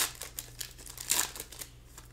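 Scissors cut through the crinkly foil wrapper of a 2023 basketball trading card pack, giving a short run of soft crinkling snips with one brighter rustle midway, close and fairly quiet, with no talking.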